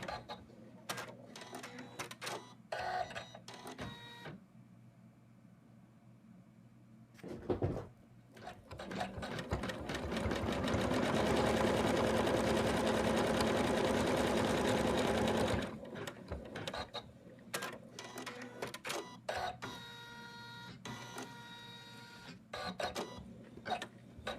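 An embroidery sewing machine stitches fur fabric onto an in-the-hoop Santa design, a steady loud mechanical whirring of rapid needle strokes that swells in the middle, with quieter start-stop stitching bursts before and after.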